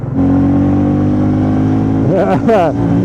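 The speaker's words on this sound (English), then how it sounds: "We don't have a rev counter here, so that was the rev limiter." A Royal Enfield Bullet 350 motorcycle engine is held hard against its rev limiter in a loud, steady, high-pitched drone, with a voice cutting in over it near the end.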